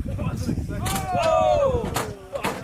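A howitzer fires during a training session, giving a sharp boom followed by a rising and falling whistle, with people shouting nearby.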